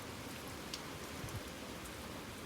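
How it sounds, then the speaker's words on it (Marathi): Rain falls steadily in wind in a village, a faint, even hiss of drops on surfaces with a few soft patters, continuous and distant, no voices. "वारा आणि पाऊस चालाय"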